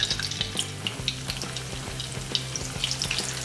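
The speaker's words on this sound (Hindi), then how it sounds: "और इस तरह से हम सभी रोल्स को फ्राई कर लेंगे।" Paneer noodle rolls frying in oil bubble steadily up close, with bright spattering pops and a few light clinks of a utensil against the pan.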